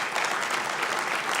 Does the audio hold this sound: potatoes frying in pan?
no